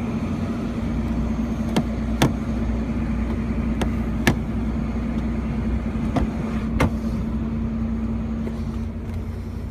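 V6 car engine idling in Miami with a steady low hum, punctuated by several sharp clicks or taps at irregular intervals.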